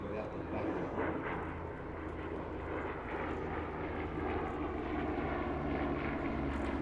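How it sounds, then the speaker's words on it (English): Twin piston engines of a Bristol Blenheim 1F fighter drone steadily overhead at the Midlands Air Festival airshow, a continuous loud propeller hum with a commentator talking over it. "First, the Bristol Blenheim 1F, the fighter variant of this twin-engine bomber design."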